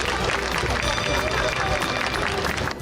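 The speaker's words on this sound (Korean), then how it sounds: "박수가 필요합니다." Applause from the audience at a webtoon audition award ceremony, dense and steady throughout with crowd murmur mixed in, tapering at the very end.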